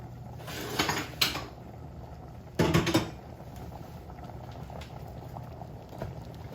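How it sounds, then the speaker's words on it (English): Creamy stroganoff gravy with ground turkey simmering in a pan, soft continuous bubbling and popping with a few louder sputtering bursts near the start. "I'm gonna turn the heat down on this and let this simmer for about 15 minutes"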